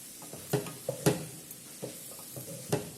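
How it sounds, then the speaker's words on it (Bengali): Vegetables for chow mein are stirred in a pot after the lid comes off, with a few sharp clinks and scrapes of a utensil against the pan over faint low sizzling, fairly close and with no voices. "আমি এবারে ঢাকাটা তুলে আবার নাড়াবো, দেখবো কতটা সেদ্ধ হয়ে গেছে।"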